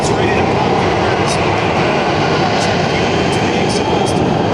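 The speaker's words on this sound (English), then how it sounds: "3 T34 turbojet engines on the back. Watch him as he spools it up." A jet-powered truck with three T34 turbojet engines on the back spools up, a loud, steady roaring whine that fills the air and builds continuously.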